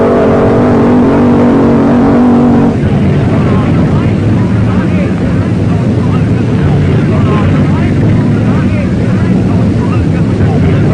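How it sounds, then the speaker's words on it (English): Art Malone's Little Rebel dragster, a nationally known car, launches hard off the line at a drag strip. The sound turns abruptly from a steady low drone into a loud, broad roar that continues for the rest of the run. "Another nationally known dragster is on the line and gone."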